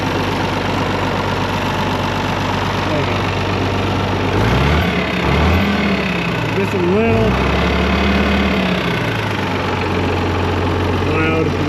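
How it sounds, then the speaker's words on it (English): A Farmall 826 tractor, just unloaded from a trailer, idles with a steady low diesel rumble; its hydraulic pump runs a little loud and a slight tapping shows. Someone talks over it. "She's down off the trailer, sitting here idling."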